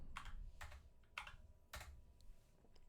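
A computer keyboard clicks in soft, spaced-out keystrokes, faint and close, with a low hum underneath and no voices.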